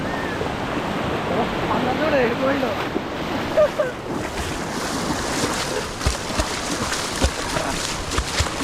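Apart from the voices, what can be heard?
sea waves washing in at the beach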